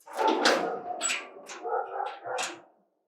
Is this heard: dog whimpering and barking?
yes